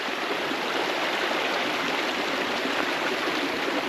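Water in a mountain stream near a rural thatched-roof house rushes steadily and loudly, a dense continuous hiss with no pauses and no voices.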